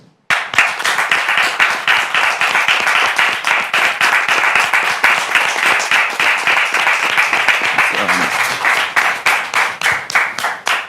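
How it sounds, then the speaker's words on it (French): Loud, vigorous applause from a live studio audience welcoming a guest onto a French-language show, with many hands clapping in a rapid, steady stream that begins abruptly and runs throughout. "je voudrais, le public, vous demander de le recevoir avec des applaudissements nourris"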